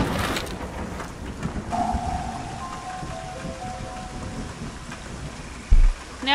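Steady thunderstorm rain pours throughout a scene in the PC game 9 Clues 2: The Ward, with low rumbles of thunder rolling underneath and a heavier boom near the end.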